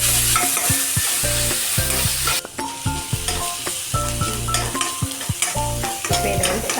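Onions frying and being stirred in a pan for soya chunk kurma, steady sizzle punctuated by repeated rhythmic scraping and clinks of a spoon against the pan, close and loud, no talking.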